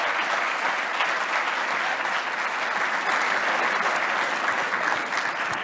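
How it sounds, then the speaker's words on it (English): Sustained audience applause fills an e-commerce forum hall, a steady dense wash of many hands clapping at even loudness throughout with no voices on top. "Let's give a round of applause."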